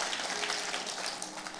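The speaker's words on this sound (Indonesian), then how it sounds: "Ayo kita kasih tepuk tangannya yang paling meriah buat Tuhan kita" A church congregation applauds for God during a worship service, a dense, even wash of clapping from many hands at a steady moderate volume throughout.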